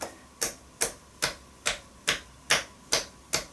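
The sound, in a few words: percussive massage tapping with hands (tapotement)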